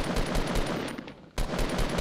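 Automatic gunfire in the video game Fortnite rattles in dense, loud bursts. It breaks off briefly near the middle, then resumes just as heavy.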